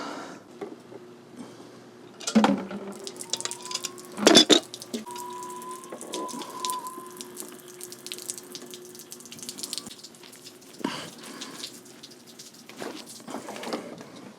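Water runs from a long hose on a boat, a quiet steady flow broken by a few sharp clanks and knocks. A faint tone drifts in the background, and no one speaks.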